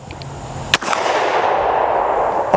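A single loud 12 gauge shotgun firing a traditional slug outdoors, one sharp close blast followed by a long rolling echo that fades slowly.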